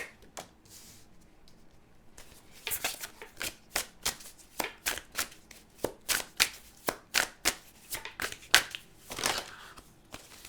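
Tarot cards riffle-shuffled repeatedly at close range, a steady run of sharp papery riffles and taps, faint at first and then quick, alone with no talking.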